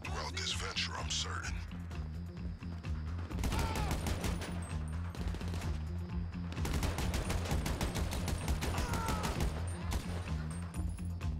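Dense, rapid gunfire from a GTA V shootout in a Cluckin' Bell farm raid, volleys of automatic bursts crackling nonstop in the foreground with a brief lull near the middle before the barrage resumes.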